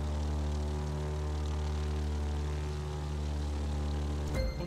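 A propeller aircraft engine drones steadily in The Crew 2 video game, a loud, continuous close hum with a rich harmonic buzz and slight pitch wavering, ending in a brief disturbance near the finish.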